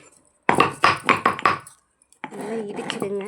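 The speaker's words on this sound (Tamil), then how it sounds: "இந்த காம்பை வந்து இந்த உரல்ல போட்டு இடிச்சிடலாம்." Curry leaf stems pounded in a mortar for mango rasam, giving five sharp, evenly spaced knocks close by, followed by a pause and then a voice talking.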